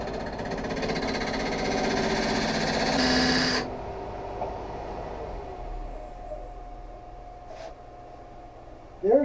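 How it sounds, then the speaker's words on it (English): Parting tool cutting grooves into wood spinning on a lathe, a rough buzzing chatter for the first few seconds that stops abruptly, leaving the lathe's quieter hum and a brief knock near the end. "First I'm going to use a parting tool to cut the grooves."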